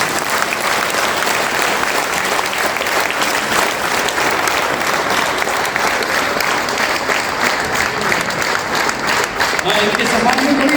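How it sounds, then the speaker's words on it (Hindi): A large seated audience at an RCM business seminar breaks into sustained, dense applause, loud and steady throughout without a break. "जो भी साथी खड़े हैं उनके लिए सम्मान में दिल से ताली बजाएं।"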